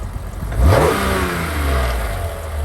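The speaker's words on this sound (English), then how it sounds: "Let's give it a rev." A BMW E46 M3 engine revs up sharply, rising in pitch, then settles into a steady, loud idle-like drone, close by with no talking.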